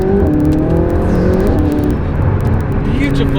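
A McLaren 570S Spider supercar revs loudly and steadily up close, its exhaust crackling with rapid pops through a continuous engine drone, while someone talks over it.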